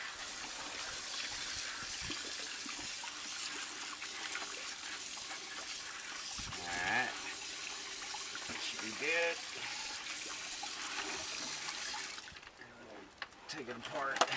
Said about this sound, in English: And once again, I'm going to rinse.